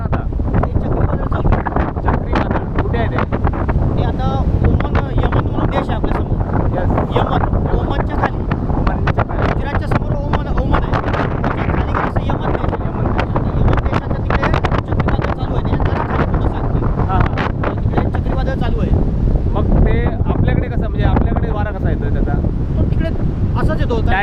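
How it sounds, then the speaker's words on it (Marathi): Strong, steady cyclone-season wind on the coast buffets the microphone throughout, a loud continuous roar with people talking over it. "कंटिन्यू वारा आहे दोन तीन दिवस झालेत ना सतत वारा आहे"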